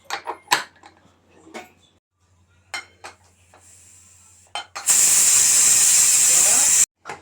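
A loud, steady hiss of steam bursts from a pressure cooker whistle and holds for about two seconds before cutting off, after some scattered clinks and kitchen clatter while tomato curry cooks.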